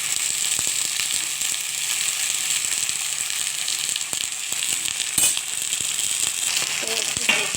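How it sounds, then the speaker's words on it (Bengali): Okra fries in a pan in a home kitchen, giving a steady, bright sizzle with small clicks and scrapes throughout. "একটু ভালো হালকা করে ভেজে নেব"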